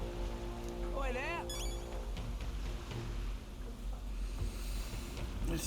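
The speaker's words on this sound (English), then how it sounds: "It's raining." Rain falls in a fantasy role-playing video game, a steady, soft hiss running throughout beneath game music tones and a brief voice.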